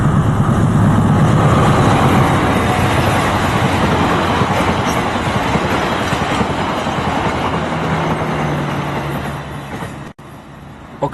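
A long Argo Wilis executive passenger train of new stainless steel cars rumbles past with a loud, steady roar and rolling rail noise that fades slightly toward the end.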